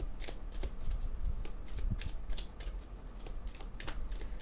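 Playing cards are riffled and snapped in quick bursts of crisp rustling close to the mic, with flicks as single cards are drawn during a fortune-telling reading, with no talking over it.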